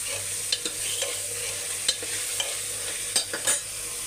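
Mutton frying with salt in a pan for dum biryani, a steady sizzle with occasional scraping stirs and clinks of a spoon at irregular intervals, close and alone with no talk.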